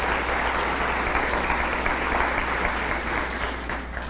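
A church congregation applauding during a sermon, a dense, steady wash of clapping that fills the space and fades slightly at the end.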